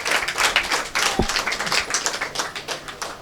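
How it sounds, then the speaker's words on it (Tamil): Audience applause at a Tamil devotional lecture for the event organizers, a dense burst of many hands clapping that rolls on steadily for a few seconds without any voices. "அவர்களுக்கு ஒரு பலத்த கைத்தட்டல் கொடுத்து நீங்கள் பாராட்டுதலை தெரிவிக்க வேண்டும்"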